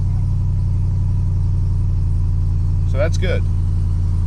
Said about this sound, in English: now we're going to start our truck